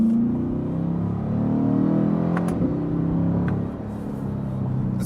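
A Chevrolet C8 Corvette cruises along a public road with a steady, loud engine rumble and a rising rev toward the middle, then eases back into a continuous drone.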